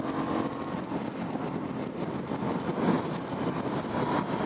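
A 2018 Aprilia Dorsoduro 900 motorcycle being ridden, its engine a steady mid-level drone mixed with wind rush, continuous and unbroken.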